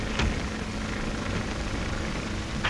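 A 1930s skywriting propeller airplane roars steadily as it sets off, its engine drone loud, close and continuous with no voices.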